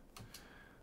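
Two quick keystrokes tap on a computer keyboard while numeric data is entered into a statistics program, close and faint in a quiet room.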